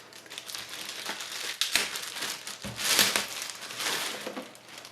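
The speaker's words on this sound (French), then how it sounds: "aujourd'hui j'ai reçu une GoPro et je vais la déballer en direct avec vous" Plastic and cardboard packaging of a new GoPro camera crinkles and crumples close up while being unboxed, in a steady stream of rustling with a few sharper crackles and tears.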